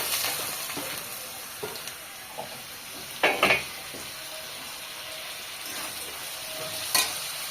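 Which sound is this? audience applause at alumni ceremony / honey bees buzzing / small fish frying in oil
small fish frying in oil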